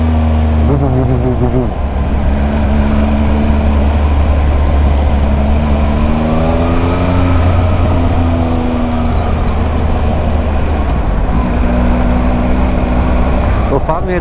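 A Yamaha MT-07 motorcycle's exhaust burbles and rumbles while riding, with steady wind noise and shifting engine tones that rise and fall, and people talk over it.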